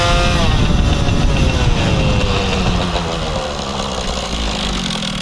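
An MBK scooter fitted with a Stage6 kit runs loud and close, its two-stroke engine note rasping as it drops in pitch and settles to a lower, steadier drone.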